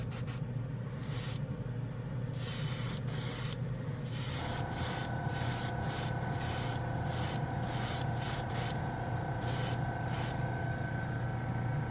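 E7 chrome sealer sprays from a can in a series of short hissing bursts, some brief and others longer, with a steady low hum underneath.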